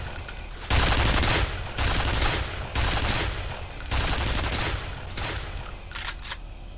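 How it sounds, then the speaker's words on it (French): Gunfire in the video game F.E.A.R., loud automatic bursts and rapid fusillades repeating in several long volleys with brief gaps between them, close and dominant. "Ah, il y a des balles qui se perdent."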